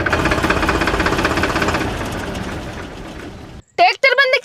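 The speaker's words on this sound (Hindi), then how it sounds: "ट्रैक्टर बंद क्यों करो तूने?" A tractor engine running with a heavy, rapid knocking chug, close and loud, that fades and cuts out; people then talk loudly right after it stops.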